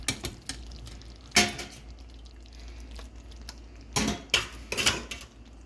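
Cooked, cold-rinsed pasta is tipped into a pot and stirred, with a few wet clatters and scrapes of utensil on metal, soft squelching and dripping, close up and no speech.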